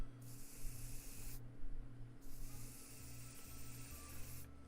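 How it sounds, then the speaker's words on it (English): A spray can hisses at glowing insects in the survival game 60 Seconds, giving two long bursts of airy spray separated by a short pause and then a brief third burst at the end, fairly soft and heard alone. "Okay, well, I'll just spray them with spray."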